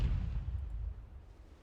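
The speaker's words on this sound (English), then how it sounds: "It's just one gun after another going off." Battleship guns ripple-fire in the naval video game NavalArt, a deep, muffled boom that rolls and fades away as a low rumble, fairly quiet overall.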